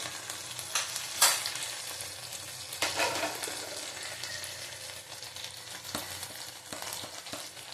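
Spices, including cumin, ginger and Kashmiri chilli powder, frying in oil for a tengra fish curry with potato, giving a steady soft sizzle broken by a few stirring scrapes, close and moderately quiet.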